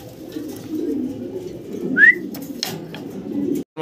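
Beauty Homer pigeons give a soft, brief whistling coo over a steady low murmur of background noise, close by and fairly quiet.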